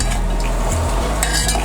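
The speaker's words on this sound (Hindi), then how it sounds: "चम्मच लेके हम इसको चलाएंगे थोड़ा सा।" A spoon stirs potato and soya chunks in a pot of curry, giving a short, close scraping and soft clinking with no talk.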